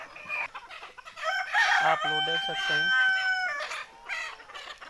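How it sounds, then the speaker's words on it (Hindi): Desi Sonali chickens roaming free outdoors in the morning cluck, and a rooster crows once clearly near the microphone, while someone talks briefly over them. "मुर्गियाँ सब कुछ बाहर खुले में घूम रही हैं"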